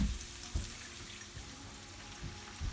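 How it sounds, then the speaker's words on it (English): Water is added to leftover jerk sauce in a home kitchen, a quiet, steady liquid wash with a few soft low knocks, heard alone without talk. "I just add a little bit of water in it"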